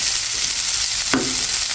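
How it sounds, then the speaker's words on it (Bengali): Potatoes, onions and eggplant frying in a pan give a steady, loud, close sizzle, with one brief knock of a spoon stirring against the pan partway through, no voices. "সব কিছু দিয়ে এখন নেড়ে ছেড়ে ভেজে নেব খুব সুন্দর করে"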